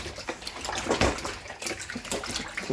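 Tap water runs and splashes over raw chicken being washed in a kitchen for Jamaican curry, an uneven, gurgling stream with bursts and pauses as pieces are turned under it, close and moderately loud.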